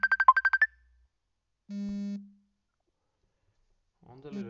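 A phone ringtone for an incoming call sounds as a quick run of about seven loud, evenly spaced beeps. It is followed by a steady tone, then a voice speaking near the end.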